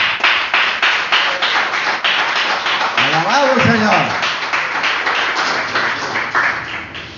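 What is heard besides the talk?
applause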